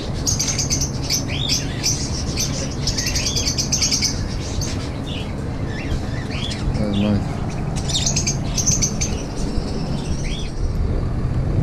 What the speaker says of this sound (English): Those pretty birds.